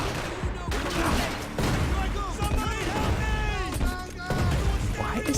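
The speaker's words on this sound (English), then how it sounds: "let's grab the grenade launcher again. This time I think we will be able to actually shoot it properly." Grenade launcher fire in Max Payne 3, heavy booming shots and gunfire bursts repeating through a dense, loud game mix with voices and tonal sound effects.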